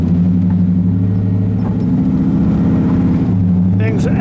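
A 1947 Ford Custom convertible with power disc brakes under way, its engine giving a close, loud, steady low rumble with slight pitch shifts as it cruises.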